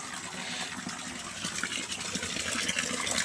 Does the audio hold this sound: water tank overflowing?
yes